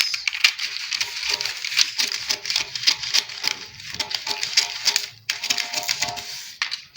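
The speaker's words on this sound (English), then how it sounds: "continue cutting, or just go ahead and cut like this" Scissors snip through a pencil skirt pattern in a rapid, steady run of crisp cuts, close and fairly loud, with brief pauses and no talking.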